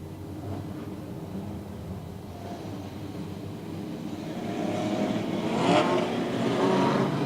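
Production sedan race cars at Maryborough Speedway starting a B-main race, engines roaring as a dense, continuous drone that builds louder toward the end as the field accelerates away.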